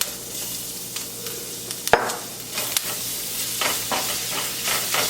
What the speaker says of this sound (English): When your ginger is brownish, golden brown, you add your garlic.